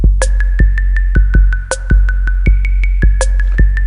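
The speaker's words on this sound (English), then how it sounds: "and the wood block." A programmed drum beat with deep kicks and crisp snare hits, layered with a steady pattern of short, hollow wood block knocks.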